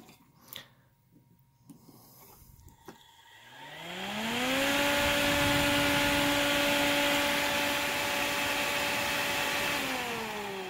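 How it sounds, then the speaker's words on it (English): An AC electronic box fan switches on after a few faint knocks, its motor hum rising in pitch over about a second and then holding a steady, fairly loud whir with broadband airflow rush until the end. "So that one's definitely noisier than the previous fan, but it certainly felt like it had a bit more power."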